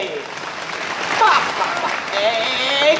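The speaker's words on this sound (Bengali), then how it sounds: "এবার সব বন্ধু মিলে একটা তালি হবে জোরে" Children at a puppet show clap together in a dense, sustained burst of applause that swells and then continues steadily, with voices calling out beneath it.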